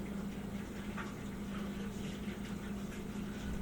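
Tap water running steadily at a kitchen sink while hands are rinsed, a continuous splashing rush close by with no talk.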